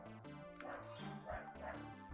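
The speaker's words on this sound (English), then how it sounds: "I like dogs in general, but I don't like when they bark. Those are my neighbors' dogs." Neighbours' dogs barking in the distance, faint repeated yips and barks with a whimpering edge, heard over game music in the background.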